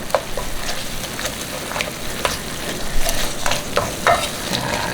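Pork stir-frying in a pan with gochujang: a loud, close sizzle broken by repeated sharp spatula scrapes and tosses at an irregular pace.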